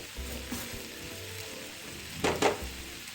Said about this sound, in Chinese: 繼續翻炒約半分鐘，炒至肉末完全入味